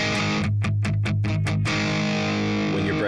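Electric guitar played through an M-VAVE TANK-G amp preset modeled on a Fender Twin Reverb pushed into power-stage breakup, with burny distorted chords ringing loud and alone, several choppy strums early, then a sustained chord.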